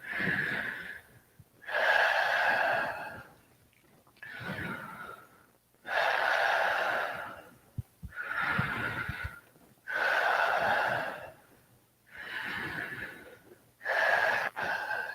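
Deep yoga breaths during a stretching session for grappling guard players, long loud inhales and exhales alternating in a slow, steady rhythm, close and alone with short quiet gaps between them.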